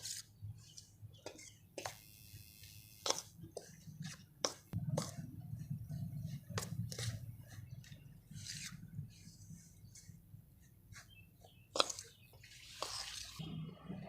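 Onion and coriander masala stuffing for bitter gourd being mixed by hand in a bowl, faint soft squishing and rubbing with scattered sharp clicks, quiet and close.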